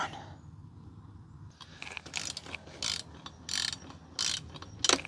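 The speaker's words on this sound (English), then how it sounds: "You can just fit it in because you can't really use that extension on a torque wrench." A torque wrench on an extension tightens a bolt on a Honda CRF150R dirt bike during a big wheel conversion, giving several short bursts of ratcheting mechanical clicks spaced about a second apart, close and fairly loud.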